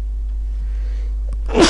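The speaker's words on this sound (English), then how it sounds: "I'm gonna sneeze." A single sharp human sneeze bursts out near the end, loud and close, over a steady mains hum in a quiet room.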